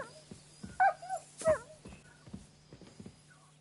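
A dog whimpers and yips in short, high, plaintive bursts in the video game Kingdom Come: Deliverance 2, a few close cries separated by brief pauses over a low steady hum.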